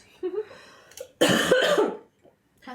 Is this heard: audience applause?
no